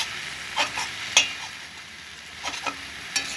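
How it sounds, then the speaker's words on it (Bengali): Leafy greens fry in a pan and get turned with a metal spatula. A few sharp scraping strokes come close against a faint steady sizzle. "খুন্তি দিয়ে একটু শাকটা ছাড়িয়ে দিতে হবে, নাহলে জ্বালা পাকিয়ে যাবে, ভাজাটা ভালো হবে না।"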